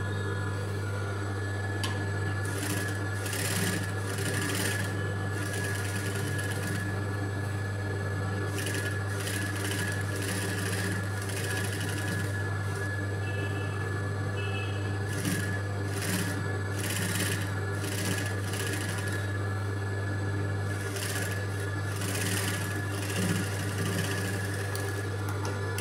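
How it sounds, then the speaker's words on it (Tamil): A sewing machine runs stitches along the edge of a piece of fabric in bursts of steady rapid whirring that start and stop repeatedly over a constant low electrical hum. "இது அப்படியே இந்த ஓரத்தில் ஒரு தையல் கொடுத்துக்கலாம்."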